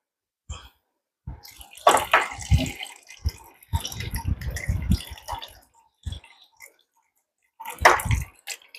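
Water running through a Kent RO water purifier, heard as irregular gurgling and splashing bursts separated by short silences, fairly close and moderately loud.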